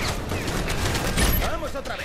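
Cannon fire in the LEGO Marvel Avengers video game during the Hydra train level: loud, dense, rapid blasts with a voice speaking over them.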